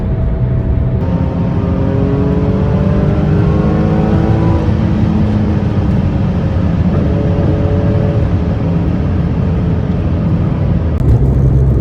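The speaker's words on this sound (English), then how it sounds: "Try to find open air so I can push this car a little bit." A Porsche 997 sports car engine revs and accelerates continuously, loud and close, with rising engine tones over a steady roar throughout.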